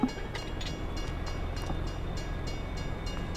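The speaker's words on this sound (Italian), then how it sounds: "Ecco qua, sta arrivando il treno." A train arrives in Farming Simulator 22, a steady rumbling rolling sound with faint rhythmic clicks over the track, moderately distant and without talk.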